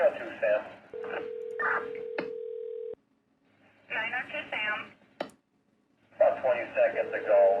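A telephone call: touch-tone dialing beeps and a long steady ringback tone, repeated a second time, with talking over and between the tones.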